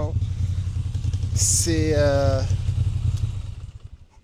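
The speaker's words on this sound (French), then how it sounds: "Écoutez le son moteur là qui tremble" A motorcycle engine idles close by with a steady, low, trembling rumble and mild vibration, while someone talks over it and a brief higher whine rises and falls in the middle.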